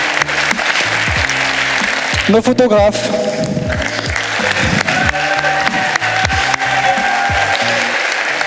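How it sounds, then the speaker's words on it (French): An audience at a WikiStage Algiers event applauds the camera crew and photographers, steady clapping from the crowd with a short spoken announcement and some wooden knocks partway through. "On les applaudit aussi s'il vous plaît"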